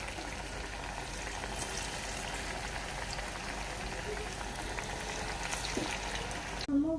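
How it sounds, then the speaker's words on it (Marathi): Pieces of colocasia leaf vadi deep frying in oil, a steady dense crackling sizzle throughout, moderately quiet, with a brief clink near the end and no talk. "आता यांना आपण तळून घेऊया।"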